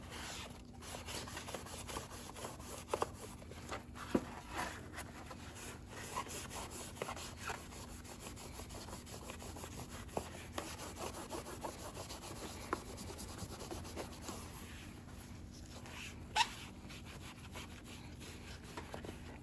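Steady, quiet back-and-forth scrubbing of a Lionel F3 model train shell with a magic eraser, continuous for a long stretch with occasional small clicks and knocks.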